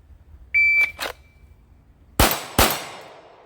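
Handgun shots at an outdoor shooting range: two loud, sharp reports about half a second apart, preceded by a brief electronic beep and a couple of fainter clicks.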